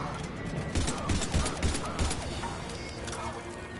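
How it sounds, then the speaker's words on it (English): Enemy gunfire in a sci-fi shooter video game, bursts of rapid shots and impacts crackling over a low rumbling game soundtrack, fairly loud and continuous. "They're taking cover and shooting at me."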